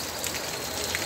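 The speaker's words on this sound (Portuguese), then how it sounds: "Chuva boa demais. Chuva boa." Steady rain falls over the city of Varginha in Minas Gerais, a continuous close hiss of drops pattering on surfaces with no talking.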